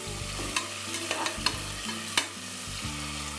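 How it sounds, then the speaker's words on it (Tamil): Onions sautéing in oil for chickpea brinji, a soft continuous sizzle with a few sharp clicks and scrapes of a ladle stirring, near and moderately loud under a low droning hum, no voices. "எண்ணெய் ஊற்றி அதுக்கப்புறம் வெங்காயம் போட்டிருக்கீங்க"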